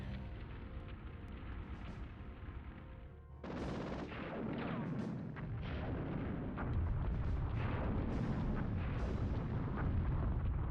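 Rocket explosions in the video game Army Men 3D: a rumbling blast gives way to a dense roar of heavy booms and crackling bursts that stays loud and continuous.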